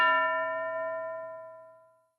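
A single classroom bell is struck once, giving a clear metallic ding that rings out and slowly decays over about two seconds, alone and close.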